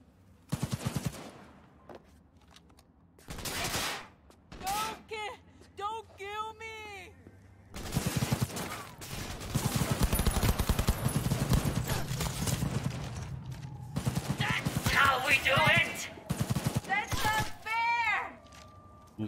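Gunfire in the video game Cyberpunk 2077: bursts of rapid shots and sharp single cracks come in clusters, mixed with other game effects and a person talking over the action.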